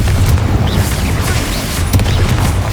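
The Confringo blasting spell from Hogwarts Legacy explodes in a loud, sustained rumbling boom with heavy low-end roar and crackling debris, dense and close for the whole stretch.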